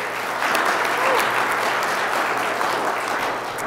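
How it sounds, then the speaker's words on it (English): An audience at a church Advent children's program applauds for Nancy, giving a steady, full round of clapping that holds at an even level from start to finish. "can I give a round of applause? I get a round of applause for Nancy."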